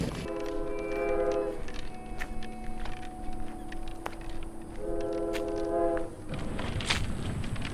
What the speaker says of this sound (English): We gotta wait for that train to leave.